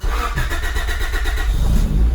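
A Honda car engine cranks and catches, then settles into a throaty exhaust note with slight revving, loud and close, with no talk over it.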